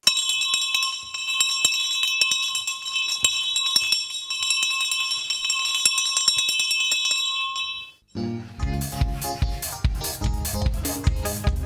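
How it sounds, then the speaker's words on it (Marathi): A theatre's third bell before a Marathi stage play rings continuously for about eight seconds, a steady shrill electric tone, then cuts off as loud music begins. "तिसरी बेल द्या."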